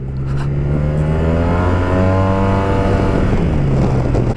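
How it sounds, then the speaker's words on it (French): Loud, close engine hum of a Yamaha TMAX 500 maxi-scooter with a steady tonal drone that swells in pitch as it revs, running continuously. "Puis ce bruit de ce moteur."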